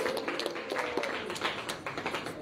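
Applause from a crowd at a Bhagwat katha religious discourse, a brief burst of uneven clapping and tapping at moderate distance, with no talk over it.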